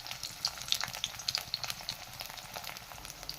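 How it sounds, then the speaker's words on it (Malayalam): Soya chunks frying in hot oil with curry leaves, a steady close crackle with bright popping spatters scattered throughout and no talking. "നമുക്ക് കുറച്ചിട്ട് സോയാബീൻ ഇട്ട് ഫ്രൈ ചെയ്തെടുക്കാം."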